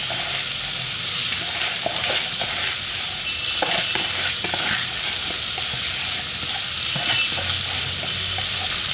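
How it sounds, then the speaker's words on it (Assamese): Soaked masoor lentils fry in hot oil in a pan with a steady, dense sizzle and crackle. Occasional stirring scrapes rise above it, close and continuous. "এতিয়া মই তেলত এয়া দালিখিনিও ধুনীয়াকৈ ফ্ৰাই কৰি ল'ম"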